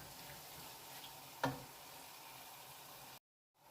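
Shrimp cooking in a pan for Vietnamese bánh xèo, a quiet, steady sizzle with one sharp clack of a utensil midway before the sound cuts off abruptly.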